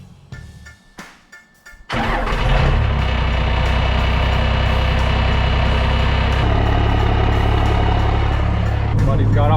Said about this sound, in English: Do a cold start on the old truck before we go to work here.